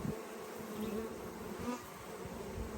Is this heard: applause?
no